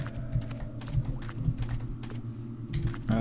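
Soft, quiet mouse clicks and keyboard taps sound at a desk during a Zombie Panic! Source game session, light irregular ticks over a low background hum.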